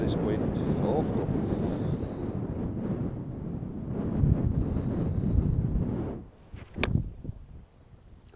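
Strong, gusty wind buffets the microphone on an open golf course, a loud rushing roar that swells and eases, dropping away briefly near the end before a short final gust.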